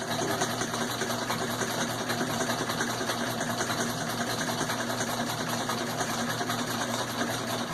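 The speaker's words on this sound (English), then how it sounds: "this sewing pedal seems to be working okay" A sewing machine driven by a foot pedal runs steadily for the whole stretch, a close, continuous mechanical whir and hum with no pauses and no talking.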